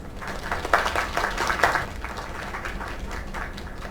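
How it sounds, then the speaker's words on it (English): A small crowd in the video game Lake claps and cheers briefly, the applause peaking early then fading into a murmur of background noise. "Another round of applause."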